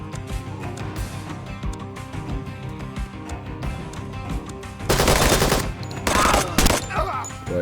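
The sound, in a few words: gunfire and bullets in the video game Door Kickers 2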